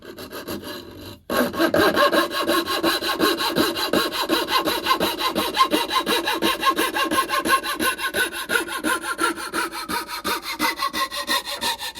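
Hand saw blade cutting through wood: after a brief pause, rapid, regular back-and-forth rasping strokes continue steadily and up close.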